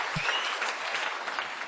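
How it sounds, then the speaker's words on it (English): Audience applause after a speaker's introduction at a talk on the longevity economy, steady broadband clapping that fills the short clip at an even level, with no voices over it. "Please give her a round of applause."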